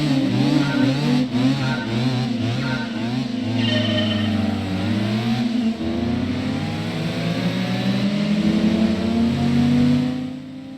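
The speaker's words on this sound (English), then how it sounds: "in GT2 this WRX sounds like a chainsaw" Subaru Impreza WRX wagon with a boxer engine in Gran Turismo 2, a loud, continuous buzzing engine note that climbs and drops in pitch as it revs through gears, with no talking.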